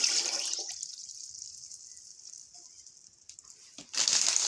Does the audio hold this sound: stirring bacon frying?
no